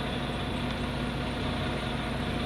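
A truck engine idles in snowy weather, a steady, even low hum and rumble that holds constant throughout with no voices.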